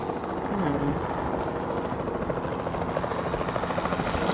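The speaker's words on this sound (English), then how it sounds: "the sensible thing is to take a capture team helicopter" A capture team helicopter in Jurassic World Evolution 2 gives a steady, close rotor drone that holds evenly from start to finish.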